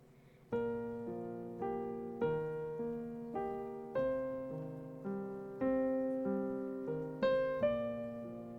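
Piano notes played one at a time in a slow stepping pattern, each ringing out and fading before the next, alone and clear.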